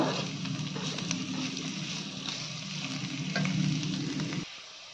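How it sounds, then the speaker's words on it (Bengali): Two sliced onions and two chillies fry in a pan, a continuous sizzle with stirring scrapes and crackles, close and moderately loud, cutting off sharply near the end. "দুটো পেঁয়াজ আর দুটো লঙ্কা দিয়ে দিলাম পেঁয়াজটা ভালোভাবে আমরা"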